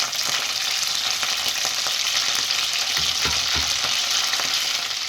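Cloves and cardamom fry in hot oil for pulao, making a continuous close, bright sizzle with a few stirring scrapes partway through.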